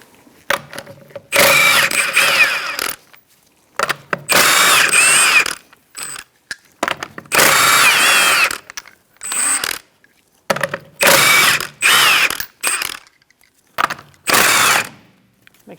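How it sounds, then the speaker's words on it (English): A power tool with a 21mm socket spins off the rear lug nuts of a 2004-2009 Mazda 3, producing loud, close whirring bursts of a second or two each, separated by brief pauses, with no speech. "we're going to remove our lug nuts to remove our wheel."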